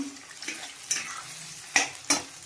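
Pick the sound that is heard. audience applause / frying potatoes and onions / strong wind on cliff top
frying potatoes and onions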